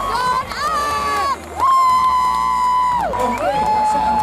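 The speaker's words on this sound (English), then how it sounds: "a big round of applause" A crowd at a natural bodybuilding show cheers loudly, with sustained high-pitched whoops and shouts rising and falling over a noisy hall, heard up close with little distinct clapping.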